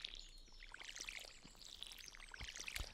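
Watering can pouring water onto crops in the farming game Stardew Valley, a soft continuous splashing trickle lasting a few seconds with a brighter splatter near the end.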